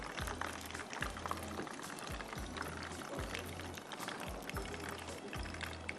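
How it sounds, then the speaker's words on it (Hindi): Spinach leaves sizzling as they hit hot oil, a steady loud hiss and crackle of frying with a low rhythmic bubbling pulse underneath, continuous throughout. "इसी तेल में मैं आधी पालक डाल दूँ।"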